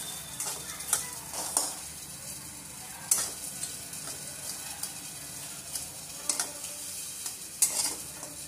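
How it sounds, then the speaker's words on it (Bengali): Whole spices, including cinnamon and fennel, dry roast in a hot pan with soft sizzling and repeated scraping and stirring strokes, spaced irregularly, close up and without any talking. "এগুলো হালকা ভেজে নেব 30 সেকেন্ডের মতো"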